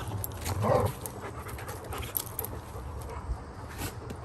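Two dogs, fresh from a snack of watermelon, pant softly and steadily at close range, with a brief louder breathy burst near the start and no talking.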